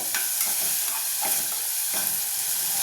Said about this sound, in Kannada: ಈರುಳ್ಳಿ ಮತ್ತು ಟೊಮೊಟೊ ಮೆತ್ತಗೆ ಬೇಯ್ತಾ ಇದೆ